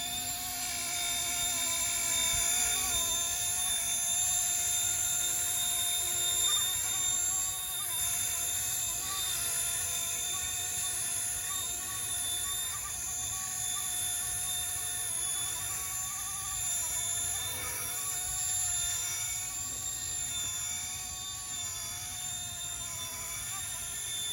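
An RC Era MD500 scale model helicopter whines steadily with a high-pitched motor and rotor buzz, holding constant and close throughout.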